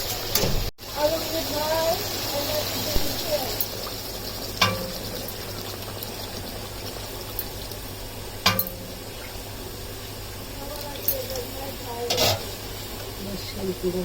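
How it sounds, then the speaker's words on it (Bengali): Pointed gourd, potato and shrimp curry being stirred in a pan, with a soft continuous sizzle broken by a few sharp scraping clicks of the spoon against the pan. "এখন একটু নেড়ে দিতে হবে।"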